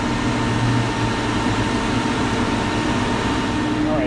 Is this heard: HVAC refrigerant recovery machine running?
yes